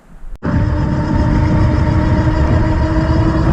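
Windone X20 electric bike under way on a ride, a steady loud rush of motor whine and wind noise starting abruptly after a brief quiet moment and holding constant to the end.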